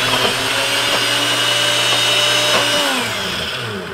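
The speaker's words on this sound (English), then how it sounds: "we're just gonna put this on the blender for a second to demonstrate" A blender whirs loudly and steadily while blending banana ice cream, its motor droning with a slight pitch wobble before easing down near the end.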